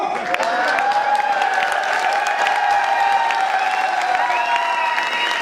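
Audience applause and cheering at a company celebration event, a continuous loud crowd of clapping with whistles and shouts rising over it, sustained for several seconds.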